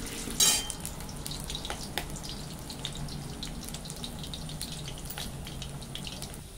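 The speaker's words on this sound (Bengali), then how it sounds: "ভালো করে আলুগুলোকে ভেজে নিতে হবে লাল লাল করে একদম" Potatoes frying in a home kitchen pan until well browned give a steady, dense crackle and sizzle that stays fairly even throughout, with a brief sharper burst near the start and no voices.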